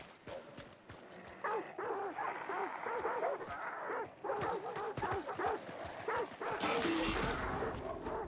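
Dogs bark repeatedly in a video game, a busy run of close, overlapping yaps and barks through most of the stretch, with game noise and a heavy thump near the end.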